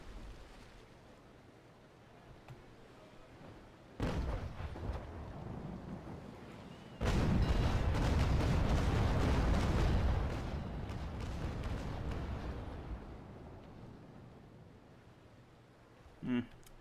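Cannon fire rings out from warships in the age-of-sail naval combat game Naval Action: a heavy boom hits near four seconds, then a longer rolling volley of shots thunders loudly before fading into low rumble, with a brief thump near the end.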